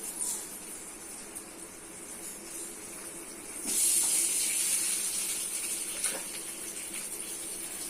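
Eggs hit hot oil seasoned with turmeric and salt, a quiet hiss suddenly jumping to a louder, steady sizzle midway and continuing close and even until the end.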